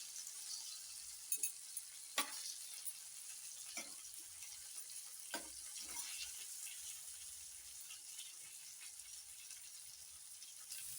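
Mackerel pieces fry in a pan with a faint, steady sizzling hiss and a few soft clicks and scrapes, quiet and close.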